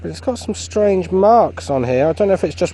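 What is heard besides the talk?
No distinct noise like a dog, phone or traffic.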